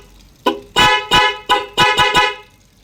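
A loud, close Honda CD70 motorcycle horn honks in a quick series of six or seven sharp blasts, some short and some held slightly longer.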